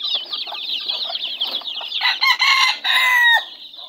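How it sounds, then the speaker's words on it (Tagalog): Twenty farm chicks chirp in a busy, overlapping chorus, with high peeping calls and soft clucks close by, growing louder and denser toward the end. "Sisiw na yan."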